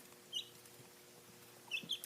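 Two short, faint bird calls, one early and a pair near the end, over a quiet hum; they sound like soft hen clucks in the distance.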